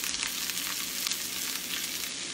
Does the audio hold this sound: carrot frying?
yes